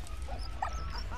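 A dog in the video game Valiant Hearts: The Great War gives a short whimpering yip over a steady low game background, brief and close.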